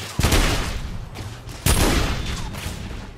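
Two heavy pump shotgun blasts from The Order: 1886, a video game, fired about a second and a half apart, each with a sharp crack and a booming tail fading into quiet.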